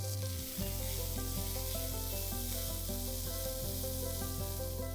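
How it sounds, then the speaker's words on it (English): Thinly sliced green chilies sauté in a hot pan, giving a steady sizzle under a loud, continuous music bed, and no voices are heard. "Saute them for a few seconds."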